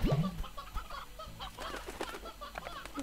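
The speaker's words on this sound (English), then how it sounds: "Got some chicken." Chickens in the video game Slime Rancher cluck in short, repeated bursts, close and fairly clear, with a brief flutter of flapping wings at the start.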